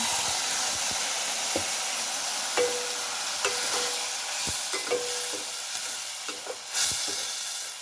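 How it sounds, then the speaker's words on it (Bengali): Egg curry spices (cumin, coriander, turmeric, red chili powder and salt) sauté with a splash of water in a pan, a steady close sizzle broken by scattered scraping and stirring clicks. "তো এখন একটু হালকা জল দিয়ে একটু কষে নেব।"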